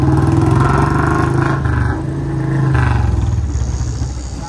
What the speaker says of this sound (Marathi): काय बघू आता किती आवाज येतोय बुलेटचा